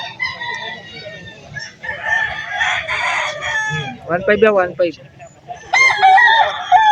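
A Peruvian-line rooster crows loudly nearby at a Sunday poultry market, a long harmonic call, with people talking before and after it.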